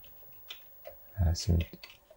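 Keys on an Amiga computer keyboard are pressed during testing, a few quick clicks and thumps close up, with someone talking over them.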